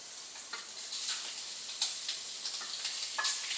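Shrimp sizzle steadily in a hot pan of curry on the stovetop, a continuous hissing fry with small pops and crackles, close and alone with no talking.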